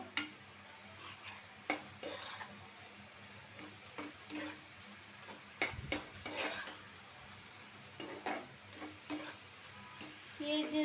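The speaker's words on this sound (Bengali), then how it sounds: "এখন আমি একটু কষায় নিব" Potato and egg with chili sauté in a pan, giving a steady sizzle broken by repeated scraping stirs of a utensil against the pan, with no talking.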